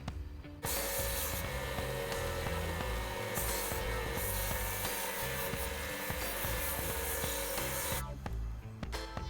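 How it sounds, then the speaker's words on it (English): A power sander grinds loudly and steadily against a wooden cake knife handle for several seconds, starting and stopping abruptly, with no talking. "I'm going to go back to the sander and just clean them up"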